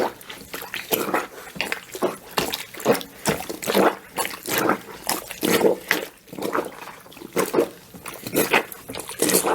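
Soapy cloth pads and underwear are rinsed in a sink with a plunger, making a steady rhythm of repeated wet sloshing and squelching pushes of water, close and clear.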